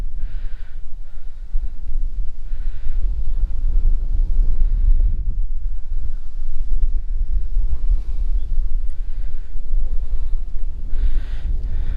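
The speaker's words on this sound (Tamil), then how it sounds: "காற்றும் சில்லுன்னு அடிக்குது," Steady cool wind blows across an open hilltop viewpoint near Chennai, a constant loud rushing roar with buffeting against the microphone and no speech.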